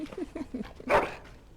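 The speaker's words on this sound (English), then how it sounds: "Bloody dog." A dog in the Dragon Age: Origins video game lets out one sharp, close bark just after a short stretch of talk.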